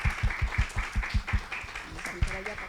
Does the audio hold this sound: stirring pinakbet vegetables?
no